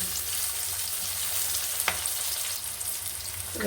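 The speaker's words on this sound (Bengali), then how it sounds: "আমি ঢেলে দিলাম পেঁয়াজ বড় বড় করে কেটে নিয়েছি দিয়ে দেবো আমি হলুদ গুঁড়ো" Large-cut chopped onions with turmeric powder frying in a pan, giving a continuous, even sizzle close up with one brief clink or scrape partway through and no voices.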